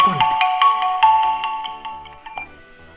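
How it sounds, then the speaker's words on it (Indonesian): A tablet phone rings for an incoming call with a bright, repeating electronic melody, loud and close, with rapid rhythmic tones and no voices. "Oh, ada telepon."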